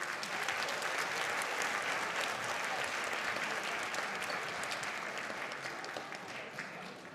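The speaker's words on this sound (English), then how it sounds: "How about another round of applause for our orchestra students?" A school auditorium audience applauds orchestra students at a high school winter concert, with a dense, steady wash of many hands clapping throughout that tapers slightly toward the end.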